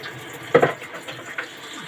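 Hot apple jelly liquid poured into a small container, heard as a brief watery splash and trickle lasting under a second, followed by a few faint drips, quiet and close against soft background hiss.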